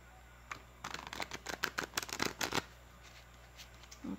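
A deck of tarot cards being shuffled close by: a quick run of crisp, papery riffles and flicks over about two seconds, then quiet, with no voices.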